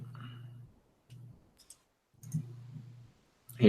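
Faint clicking over a voice chat during a Magic Online livestream: a few short, irregular bursts of clicks with a low, buzzing microphone hum, separated by silent gaps.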